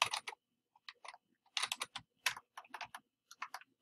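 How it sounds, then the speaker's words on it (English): Quick irregular bursts of keystrokes on a computer keyboard, close and crisp, with short pauses between clusters in an otherwise quiet room. "You get to see me in my very bad typing."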